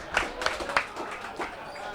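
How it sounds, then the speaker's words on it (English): Audience applause at a live Cast And Crank podcast event: a brief burst of clapping from the crowd with scattered sharp claps, mixed with voices and cheering. "Give that gentleman a round of applause"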